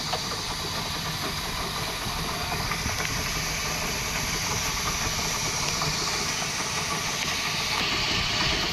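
Tomato rasam, a Telugu tempered tamarind-style soup with chilli powder, salt and turmeric, boiling on a stove, giving a steady continuous hiss and bubbling roar at an even loudness throughout.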